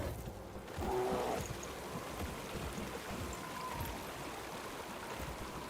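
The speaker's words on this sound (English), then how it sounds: "Water sounds there that they put in with the patch." Quiet flowing water burbles and trickles steadily in a Last Epoch game environment, a faint, continuous stream-like ambience with no clear voices.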